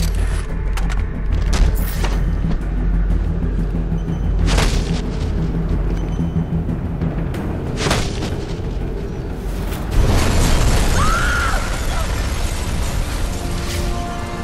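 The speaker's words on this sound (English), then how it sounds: "Source of explosion was an oil truck on the bridge surface." An oil truck explodes on a bridge in Batman: Arkham Origins, heard as a heavy continuous rumble with several sharp booms and a large burst of blast noise near the end.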